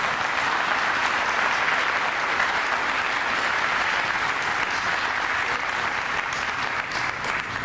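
An audience at an annual awards banquet claps for the directors, sustained, dense applause filling the room at steady loudness throughout with no voices on top.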